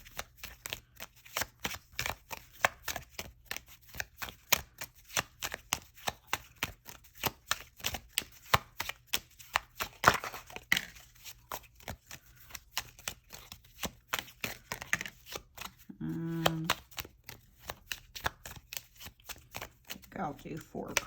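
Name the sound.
shuffling tarot cards for a reading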